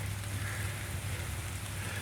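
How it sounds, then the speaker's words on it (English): Rain falls steadily outdoors on a rainy day, a constant dense hiss with a low hum underneath, with no talking. "It's raining today."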